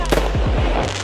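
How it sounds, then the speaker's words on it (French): Large fireworks burst very close at a lantern festival in Chiang Mai, Thailand, with a loud crackling barrage of rapid pops and booms, dense and overwhelming for about a second. "Et les mecs ils nous tirent des énormes feux d'artifice juste à côté de nous"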